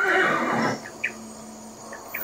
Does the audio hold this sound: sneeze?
no